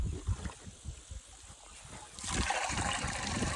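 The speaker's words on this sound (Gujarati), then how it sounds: "પાણી ભરવાનું ચાલુ છે." Water fills at a farm field, a steady trickling and splashing flow that grows louder and broader partway through, heard close by with faint background thumps.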